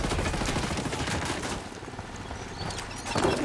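Sustained gunfire in Ghost Recon: Wildlands, dense overlapping rifle and automatic bursts that thin out briefly midway, then pick up again toward the end.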